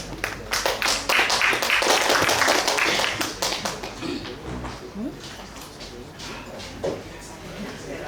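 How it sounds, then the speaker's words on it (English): A workshop audience claps for people called to the front, a loud burst of applause that thins after a few seconds into scattered claps as a speaker starts talking. "please give applause to all of them"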